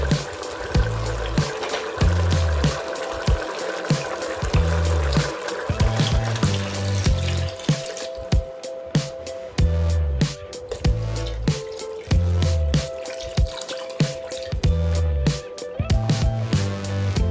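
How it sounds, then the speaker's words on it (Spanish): Water poured into a cooking pot of duck rice, a steady splashing and trickling stream that runs on for many seconds, close and fairly loud, with a brief change in flow partway through. "vamos a empezar recién a agregar el agua"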